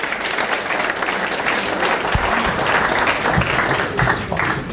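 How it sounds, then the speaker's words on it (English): An audience at a charity's annual general meeting gives steady, sustained applause for guest speaker Andy Gwynn, a coach and author, with many hands clapping in a dense wash that holds evenly throughout. "Round of applause."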